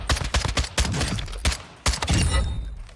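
A rapid string of sniper rifle shots in a video game, sharp loud cracks roughly every few tenths of a second with a ringing tail after each.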